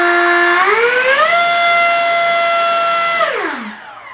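An FMS F-15C model jet's 64mm electric ducted fan runs on a 3S battery, spinning up to a loud, steady whine with a clear tonal pitch. It holds for a couple of seconds, then winds down.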